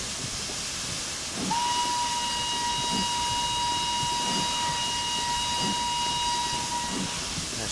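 A steam locomotive in a train simulator game vents its cylinders with a loud, continuous hiss of steam, joined by a sustained steady whistle-like tone that holds for several seconds, with no talking.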